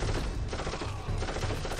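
Sustained gunfire in the video game Darkest of Days, a continuous rattling barrage of shots at steady loudness with no talk over it.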